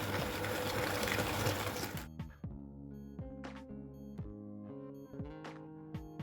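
Sour cream being beaten into butter and egg yolks for a cake batter: a steady motorised whir, dense and rough for the first two seconds, then a thinner whine whose pitch wavers and dips under small clatters.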